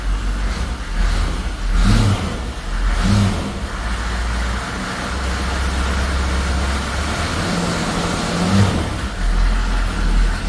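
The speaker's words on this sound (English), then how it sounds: "It free revs by itself, doesn't hang or anything silly." A GMC truck engine free revving, rising in a few short blips over a steady loud idle, close up with no voices.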